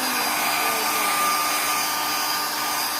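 A handheld hair dryer blows steadily and loudly at close range for the whole stretch, a continuous rushing whoosh with no voices over it.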